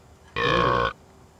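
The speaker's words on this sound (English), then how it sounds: "You always burp a lot." A cartoon character lets out a single loud, drawn-out burp lasting about half a second, close and clear against a quiet background.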